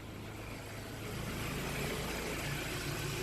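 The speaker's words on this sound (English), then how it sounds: "Got a max AC here, blowing much colder air." A 2012 Kia Optima's air conditioning runs at maximum after an expansion valve repair, a steady broadband rush of blowing air over a low engine hum that swells slightly partway through.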